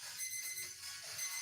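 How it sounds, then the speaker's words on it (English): A kitchen timer beeps faintly in short high-pitched pulses, repeating twice in quick succession, barely above a quiet room background in a home kitchen while bread rolls bake in the oven. "My timer is going to beep now. I hear that beeping"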